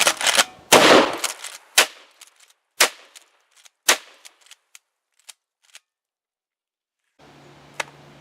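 Ithaca Inland M37 trench gun reproduction shotgun fired outdoors at a shooting session, with a series of sharp, loud blasts at irregular intervals, the early ones heavy and booming, later reports fainter, followed by a steady hum.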